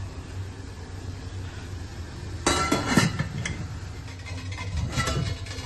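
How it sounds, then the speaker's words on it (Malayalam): Metal clinks and clatters as the lid is set onto an idli steamer pot while steaming coconut rice rolls, two short bursts of clanking over a quiet kitchen hiss. "ഇനി വേഗട്ടെ കുഴക്കട്ട, അടച്ചു വയ്ക്കാം ഇഡ്ഡലി പാത്രം"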